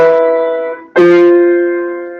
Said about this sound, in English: That's the sound of a perfect fifth.